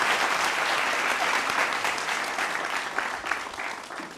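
Sustained applause from an audience at a political speech, dense and steady clapping filling the whole stretch without voices.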